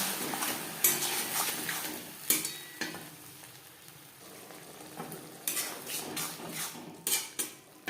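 A spoon stirs tomato paste made from three large tomatoes, along with turmeric powder, in a pan for a small-fish curry, with sharp metallic scrapes and clinks over a steady low sizzle, no voices.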